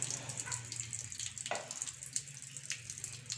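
Water runs steadily through a pond filter chamber, a close, continuous gurgle and splash with small drips, and no one speaks.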